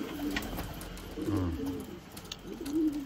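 Racing pigeons coo softly in a loft, with several low, rounded coos close by and small rustles and faint background noise between them.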